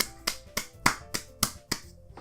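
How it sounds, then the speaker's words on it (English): Scripted applause from four characters in the visual novel Doki Doki Literature Club after a poem recitation: about six separate crisp claps at an unhurried, even pace, fairly close, with no voices over them. "The four of us applaud."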